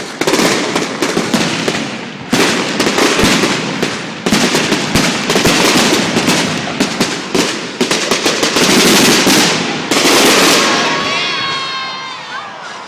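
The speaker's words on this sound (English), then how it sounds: "Sydney Royal Easter Show fireworks!" Fireworks at the Sydney Royal Easter Show, loud dense bursts of crackling and booming in rapid succession with brief pauses, ending in whistling, fizzing trails, with crowd noise beneath.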